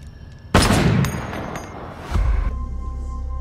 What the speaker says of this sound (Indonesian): di sini Miguel sengaja menembak anak Gomez agar Gomez merasa kapok